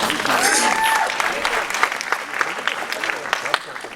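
Studio audience applauding during a boxing interview, a loud dense burst of clapping at the start that thins into scattered claps and cheers, with some voices mixed in.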